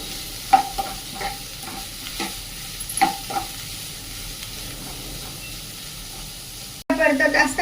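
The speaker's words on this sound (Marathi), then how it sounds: "आता कांदा चांगला परतून परतून घ्यायचा आहे" Finely chopped onions sautéing in a pan with a soft sizzle and intermittent stirring clicks, ending in a louder burst of sizzling and clatter.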